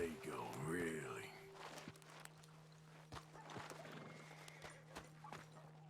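Horse hooves clip-clopping at a walk in Red Dead Redemption 2, faint scattered thuds under a low steady hum, with voices talking early on.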